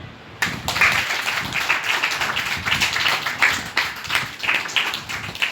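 A group of students at a government girls' senior secondary school in Gurugram clapping together during a Sahaj Yoga meditation session, breaking out abruptly into steady, fairly loud rhythmic applause that holds to the end.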